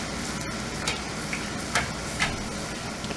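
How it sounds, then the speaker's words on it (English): A tortilla puffs in hot oil for puffy tacos, a steady close crackling sizzle with a few sharp ticks and pops scattered over it. "Help your tortilla along, guys. Throw hot oil on it."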